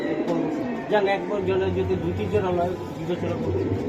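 Giribaz pigeons coo in soft, low rolling calls, heard close up with people talking over them through most of the stretch.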